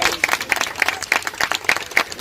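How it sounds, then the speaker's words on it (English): An audience at a charity media launch claps, a lively round of applause with distinct individual hand claps standing out in a quick, uneven rhythm. "A round of applause for her, please."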